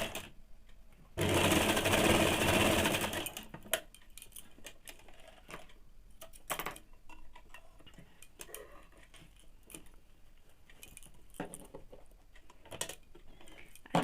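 Stitching a folded hem on a ladies' pant, a sewing machine runs in one loud, fast, close burst of rapid needle clatter lasting a few seconds, followed by faint scattered clicks and handling sounds.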